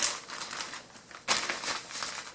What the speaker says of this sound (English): then you take your duct tape